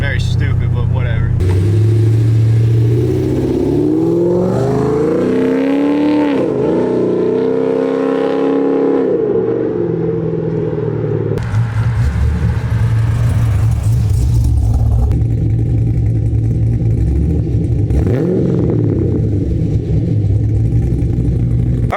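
A 5th gen Camaro with Speed Engineering True Duals exhaust revving repeatedly, deep loud rumble swelling and falling through several throttle blips, with a voice talking at times over the engine.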